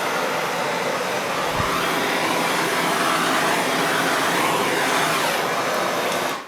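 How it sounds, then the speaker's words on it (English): A big blowtorch fired over resin roars loud and steady at close range for several seconds, then cuts off abruptly, with no voices. "pardon the noise, I'm going to hit my blowtorch"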